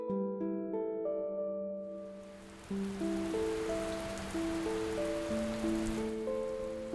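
Steady rain falling on a rainy day at a tea-making place, a soft continuous patter that swells in as gentle music fades, moderately quiet and even throughout.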